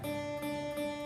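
A single guitar note, D, rings out clearly and steadily, sustained on its own with no talking.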